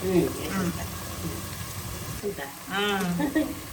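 Mutton is added to hot oil in a pan for a gongura mutton curry and sizzles steadily. People talk over the frying, with the sizzle continuing underneath.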